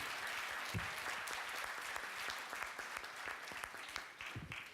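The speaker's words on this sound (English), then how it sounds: "Please give them a great hand of applause." A room full of people claps steadily, a dense, even patter of applause that holds throughout without cheering.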